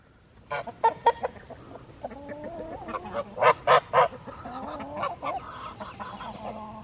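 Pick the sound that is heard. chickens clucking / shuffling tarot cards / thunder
chickens clucking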